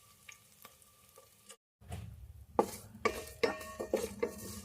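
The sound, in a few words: roasting red wheat rava in a pan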